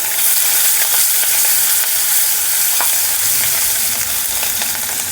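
Chopped garlic and green chili pieces fry with asafoetida in oil over a lowered flame, giving a steady close sizzle with a few light stirring clicks and no talking.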